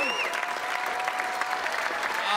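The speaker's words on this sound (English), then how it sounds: "Give a round of applause for all the hot" Comedy club audience applauding steadily for about two seconds, a dense wash of many hands clapping with some crowd noise mixed in, loud and close throughout.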